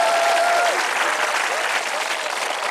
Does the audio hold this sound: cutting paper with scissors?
no